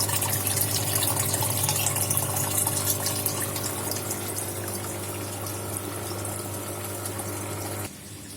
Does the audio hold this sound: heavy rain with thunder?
no